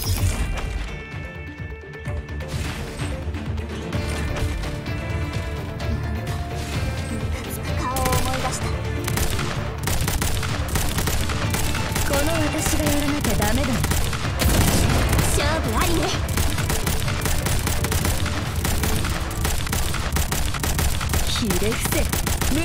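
Rapid, sustained gunfire fills a battle in the video game Order of Chaos, dense automatic bursts and booms hammering on continuously with loud, layered music and effects and an occasional voice beneath.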